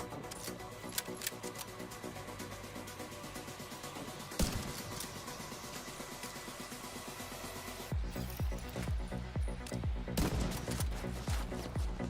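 Sniper rifle shots in The Division 2 video game, a sharp loud crack near 4.5 seconds followed by a run of rapid impacts and shots in the last few seconds over steady game background noise.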